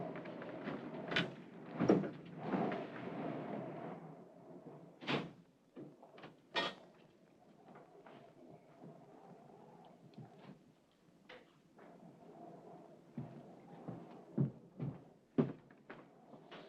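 Someone works a key in an old door lock: a series of sharp knocks, rattles and clicks, several clustered at the start and more scattered later, close by in a quiet room.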